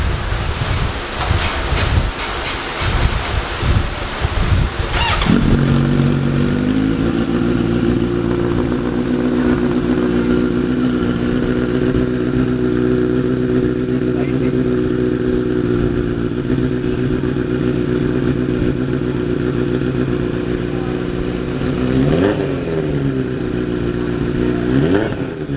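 A Kawasaki Z900 motorcycle with a full-system exhaust and dB killers fitted fires up after some rough noise, then holds a steady, loud idle with a couple of short revs near the end.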